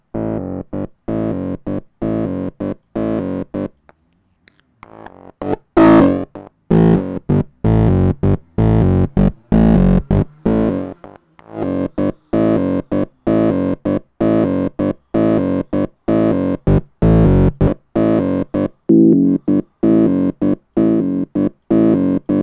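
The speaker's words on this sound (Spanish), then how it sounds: "Dynamic Tube es otro distorsionador" A synth in Ableton Live run through the Dynamic Tube distortion effect, pulsing in a fast, even rhythm of short gritty, saturated hits with a brief drop-out and a brighter swell early on, loud and alone.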